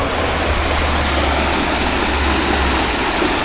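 Bear River flows right beside a campsite as a steady, loud, close rush of water, constant throughout with no voices over it.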